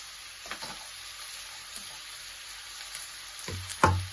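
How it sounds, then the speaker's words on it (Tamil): Garlic and green chilies sauté in oil, a soft steady sizzle with a few faint spatula scrapes and a louder clunk near the end, no voices. "இதை நன்றாக வதக்கவும்"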